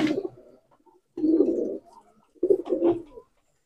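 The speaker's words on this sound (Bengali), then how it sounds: "আমি আর একটা নীলদুম্বা কবুতর আমার হাতে নিয়েছি" A Nildumma pigeon coos while held in the hand, three close, distinct cooing phrases separated by short pauses, with no talk.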